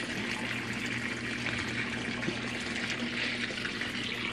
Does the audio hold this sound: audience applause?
no